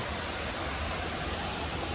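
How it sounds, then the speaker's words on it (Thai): Water cascades down rocks at Tham Soda waterfall by Wat Tham Soda in Nong Phok, making a dense, steady rushing hiss that stays loud and unbroken, with no voices. "เป็นน้ำตกลงไปเรื่อยๆนะครับ"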